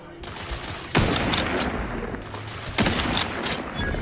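Gunfire from a sci-fi shooter game, The Outer Worlds 2: two sharp, loud bursts about two seconds apart, each followed by a rattling, decaying tail over a dense bed of combat noise and music.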